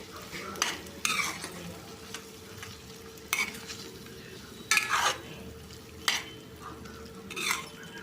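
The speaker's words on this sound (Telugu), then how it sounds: "అల్లం వెల్లుల్లి పేస్ట్ వేసుకొని ఒకసారి కలిపేసుకోవాలి" Ginger garlic paste being stirred into raw prawn curry frying in a pan, heard as a low continuous sizzle broken by sharp spoon scrapes against the vessel every second or so, close up.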